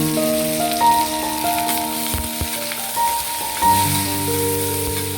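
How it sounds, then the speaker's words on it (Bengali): Onions and tomato fry in hot soybean oil, a steady close sizzle with crackling pops that carries on throughout with no voices. "সয়াবিন তেল দিয়ে আজকে রান্না করছি। সেজন্য গরম তেলে দেখো একটু পেঁয়াজ দিয়ে দিলাম, হালকা ব্রাউন কালার করে নেব।"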